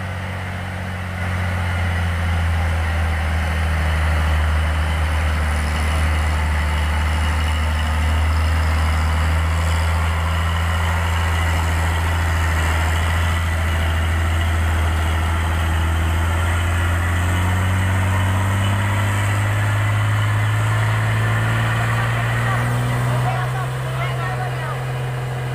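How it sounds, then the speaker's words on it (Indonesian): An orange Fuso dump truck labors up the Bukit Korok hill, its diesel engine droning loud and close in a steady low growl that slowly rises in pitch as it climbs, with a voice talking over it. "ada satu unit truk Puso Orange yang ambil jalur kanan untuk mempermudah mendaki tanjakan Bukit Korok ini"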